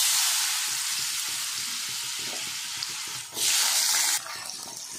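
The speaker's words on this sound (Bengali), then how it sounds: "এবার আমি আলু আর সিমটা ভেজে নেব।" Potatoes and broad beans fry in oil in a pan with a close, steady hiss and sizzle that swells louder for about a second partway through, then settles back, with no talking.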